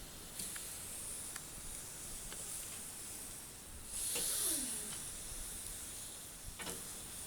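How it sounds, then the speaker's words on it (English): Steady hiss of meat sizzling on a hot grill, swelling louder for a moment midway, with faint clicks and pops. "Can you hear that sizzle?"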